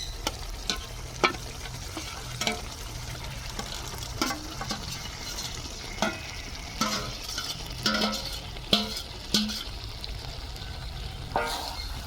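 Chicken pieces frying in a pan for a restaurant-style chicken curry, a steady sizzle broken by repeated clinks and scrapes of stirring at an uneven rhythm, close by, with no talk.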